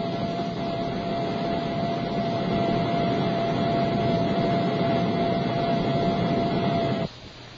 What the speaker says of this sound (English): In this helicopter today, Moshe Dayan is flying to the Suez line.